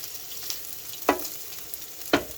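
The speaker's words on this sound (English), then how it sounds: "I moved the bacon a little more to the griddle center, so that way cooks a little faster." Bacon fries on a griddle with a soft, steady sizzle, broken by two or three sharper crackles or scrapes; no talking.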